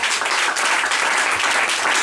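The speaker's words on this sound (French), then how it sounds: "Est-ce qu'on peut acclamer très fort le Seigneur?" A church congregation applauds loudly and steadily at a New Year's Eve service, a dense wash of clapping that holds without pause throughout.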